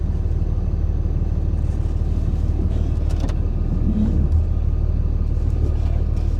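A RAM 3500 dually pickup truck rumbles at low speed while reversing and then moving forward, a steady deep engine drone heard from inside the cab with faint clicks and creaks.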